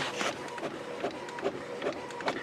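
An HP inkjet printer fitted with a continuous ink system prints on plain paper at best quality, giving a soft, rhythmic series of mechanical whirs and carriage passes, close and fairly quiet.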